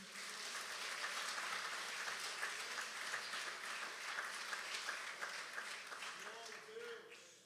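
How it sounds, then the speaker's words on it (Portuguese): A church congregation applauds during a Portuguese-language sermon. The clapping is faint and distant but continuous, blending into a steady wash, with voices mixed in. "aplauda o Senhor Jesus"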